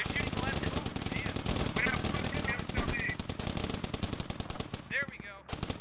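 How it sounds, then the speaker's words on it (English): Machine gun fire in the Squad video game: rapid, sustained bursts of loud, close automatic shots running nearly the whole time, with some voices underneath. "One machine gun."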